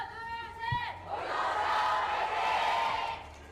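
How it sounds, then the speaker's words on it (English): An esports arena crowd at an OWCS Korea Overwatch match between T1 and Old Ocean roars in a sustained, swelling cheer that rises after a brief lead-in and holds loud before easing off. "Crowd's pretty pumped."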